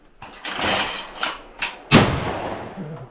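Two loud shotgun blasts at an outdoor shooting range, the second sharper and heavier, each with a short decaying tail, and a quieter thump between them.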